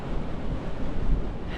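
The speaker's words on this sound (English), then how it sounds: "Could be about 45-mile-an-hour winds up here" Strong wind of around 45 mph buffets the microphone on a Lake District fell summit near High Pike, a loud, continuous roar with rumbling gusts throughout and no voices.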